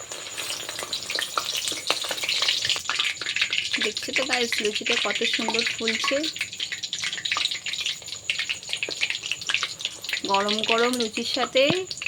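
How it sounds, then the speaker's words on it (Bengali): Luchi puffed breads frying in hot oil in a home kitchen, a steady crackling sizzle running throughout, with brief bursts of someone talking over it partway through and again near the end. "গরম হলে এবার লুচিগুলোকে আস্তে আস্তে ভেজে নিলে হয়ে যাবে"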